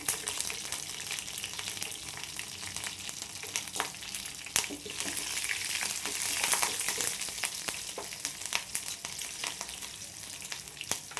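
Curry leaves and green chillies frying in hot oil for a cucumber palya make a steady, loud crackling sizzle with sharp pops spread through the whole stretch, and no talking.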